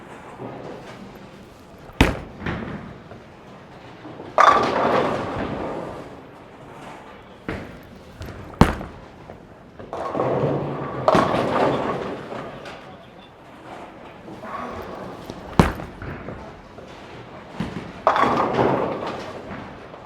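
Bowling shots with a Columbia 300 Power Torq ball in an alley, sharp thuds of balls hitting the lane and rumbling rolls ending in pin crashes, repeated several times amid ambient alley noise.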